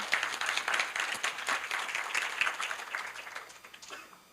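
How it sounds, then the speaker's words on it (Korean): A university business school event audience welcomes a startup CEO to the stage with lively applause. The dense clapping starts fairly loud, stays steady, then fades out over several seconds with no talk. "박수로 맞아주세요."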